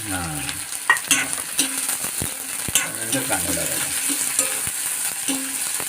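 Chopped onion and chili sizzle in hot oil for a bombil chutney while a spoon stirs and scrapes the pan, giving a steady close frying hiss broken by repeated metallic clinks.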